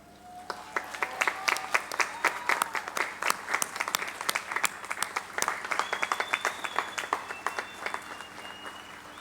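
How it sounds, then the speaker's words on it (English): Applause from a university commencement audience honoring graduates, a steady wash of clapping with distinct sharp claps popping out, moderately loud and continuous throughout. "since we've given you a big round of applause"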